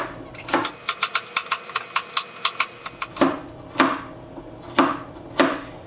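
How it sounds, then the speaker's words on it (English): A knife chops carrots on a cutting board in a quick, steady run of about a dozen close, crisp cuts, followed by a few slower, heavier chops spaced out near the end. "when you're slicing a carrot, the little rounds all roll away from you. So I always just cut it in half like this"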